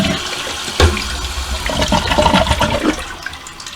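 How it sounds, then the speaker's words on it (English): Toilet flushing right after its fill valve was replaced: a sharp handle press, then a loud, steady rush of draining water for about three seconds, tapering off near the end. "So I'm going to now hit the flusher,"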